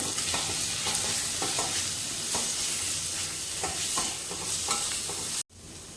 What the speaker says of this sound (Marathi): त्यानंतर अंडा करी मसाला रेडीमेड तो घालते थोडा, 1 चमचा. हे मिक्स करून घेते.